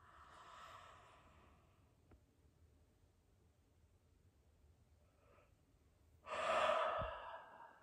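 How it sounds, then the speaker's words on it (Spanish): Slow, deep breaths drawn in and let out through the mouth during a guided meditation exercise, soft and close, with a louder, fuller exhale near the end. "inhalamos aire por la boca"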